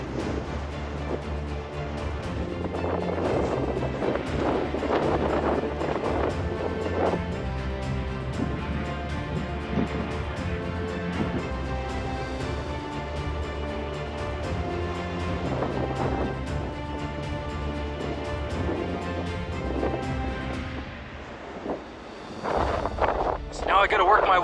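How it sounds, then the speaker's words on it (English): Cold wind gusting across the Steens Mountain summit in Oregon's high desert wilderness, a steady broadband roar buffeting the microphone for the whole stretch, with a few louder blasts near the end. "It's so cold and windy"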